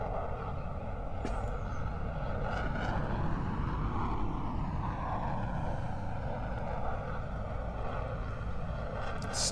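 A Eurofighter Typhoon fighter jet performing at the Royal International Air Tattoo air show, a loud continuous engine roar with broad rumble and wind buffeting that shifts in pitch as the jet passes, heard from the crowd.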